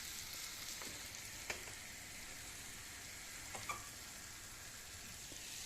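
Mint frying in a pan for pumpkin soup gives a steady, close sizzle throughout, with a few soft stirring clicks and no talking.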